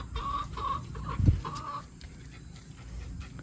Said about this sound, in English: Look, here comes your chicken.